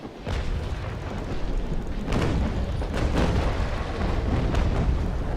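Naval ship cannons in the game Naval Action fire in a series of deep booming blasts over a constant low rumble of battle ambience, with several heavy thuds spread across the scene.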